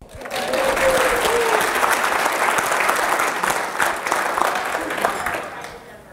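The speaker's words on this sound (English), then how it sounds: "Please give her a round of applause." Sustained applause from a crowd at a speech event, a dense steady clapping wash lasting several seconds at full strength with some voices and cheers mixed in, easing slightly toward the end.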